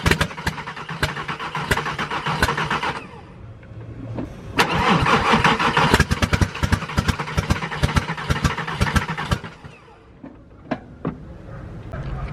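A 2001 Jetta VR6 engine cranks and fires with the throttle body unattached, a loud close start that revs, drops, catches again and then dies away to quiet with a few sharp clicks.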